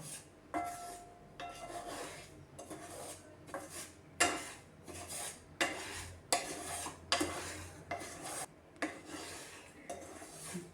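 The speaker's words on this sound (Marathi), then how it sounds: "आता मी गॅस पेटवते आणि रवा भाजून घेते." Semolina roasting in ghee on a gas stove is stirred with a spoon, giving repeated scraping strokes against the pan in a steady rhythm, close and fairly quiet, with no talk.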